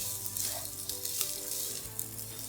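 Day-old cooked rice goes into a pan over a low flame for Singapore chicken fried rice, producing a continuous crackling sizzle with light stirring scrapes, close and steady.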